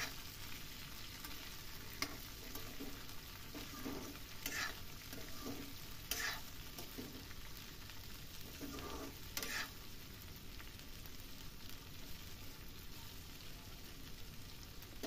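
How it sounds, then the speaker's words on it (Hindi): Potato and mustard pod sabzi sizzling steadily in a pan while being stirred, with soft scraping strokes over a continuous quiet fry and no voices. "अब मिक्स कर देती हूँ सारा।"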